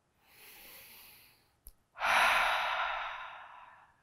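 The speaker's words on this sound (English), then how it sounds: "Cleansing breath, inhale." A deep yoga cleansing breath: a soft, breathy inhale, a brief catch, then a louder, long exhale that slowly fades, close and alone.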